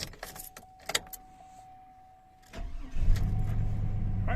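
A GM pickup truck with no trouble codes is started: a few clicks and faint tones, then a brief cranking churn that catches into a steady, close low idle, with no talk.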